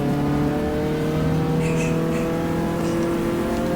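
A Ferrari race car in the GTR2 racing game at Fuji Speedway screams under steady high revs, loud and constant with rising engine tones and a faint tire squeal.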